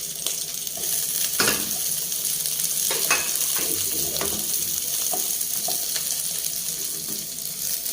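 Onion and capsicum frying in a pan for chicken Manchurian, a loud steady sizzle with a few clicks and stirring taps, close and continuous with no talk.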